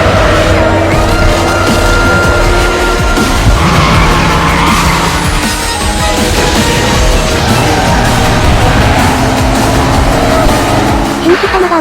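Racing cars, a twin-turbo car and a Subaru Impreza, roar and accelerate hard, tires squealing and skidding throughout, loud and close, with a faint voice underneath.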